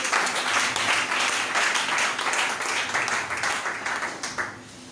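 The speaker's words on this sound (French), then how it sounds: "Si tu es avec moi, acclame le Seigneur" A church congregation applauding during a sermon, a loud, dense wash of many hands clapping continuously for several seconds with a few louder accents near the end and faint crowd voices mixed in.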